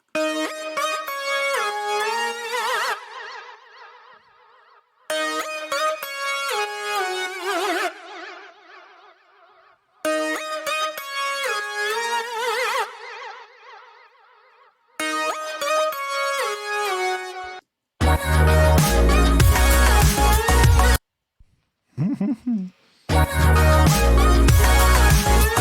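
Several bright synth lead lines play the same short phrase in turn, then layer into one dense, full sound, with brief gaps between passages.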